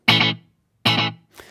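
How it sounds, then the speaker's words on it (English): Two short electric guitar chords with a slapback delay from a Source Audio Nemesis pedal, each chord followed by a quick single repeat, then a fainter third strum, loud and close with no talk. "The first delay is SlapBack Delay."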